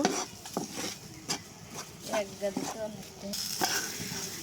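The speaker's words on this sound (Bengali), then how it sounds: "আমি এখন সবগুলো উপকরণ ভালোভাবে একটু মিশিয়ে নেব" Coconut paste ingredients, including freshly grated coconut, being stirred together in a pan for a homemade pitha, with soft scraping and scattered spoon-on-metal clinks in short irregular bursts, fairly quiet and close.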